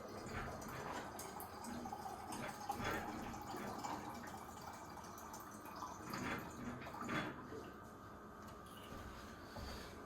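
Water runs from a tap into a Fellow kettle in a kitchen in the morning, a quiet continuous pouring stream with a few small knocks along the way.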